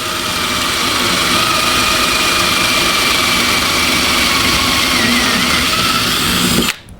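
A power drill bores through a metal cam braced on a wooden block, a loud continuous whine and grind that holds steady for several seconds before cutting off abruptly at the end.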